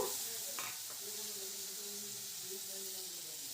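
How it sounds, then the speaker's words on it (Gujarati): Boiled potatoes for batata poha stirred in hot oil, producing a steady close sizzle and hiss with a couple of brief stirring scrapes early on. "હવે એને સારી રીતે તેલમાં મિક્સ કરી લઈશું"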